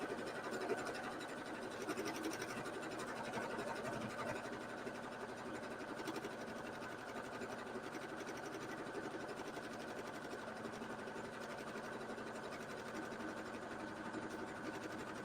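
A sewing machine stitching with quilting thread runs in a steady, continuous mechanical hum and rapid needle clatter, close and moderately quiet, with no talk.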